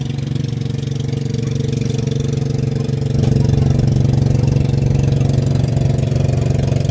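A boat engine idles steadily in shallow water at Little Boracay, Batangas: a close, loud, even low chugging that grows slightly heavier partway through and runs alone without talk.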